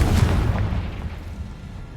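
A Confringo fire spell explodes in Hogwarts Legacy, a loud, close, low boom that rumbles and slowly fades over two seconds, with no talk.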